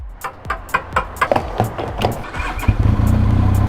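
A Benelli TRK502X motorcycle engine cranks with a rapid series of starter pulses, then catches and settles into a steady, close idle.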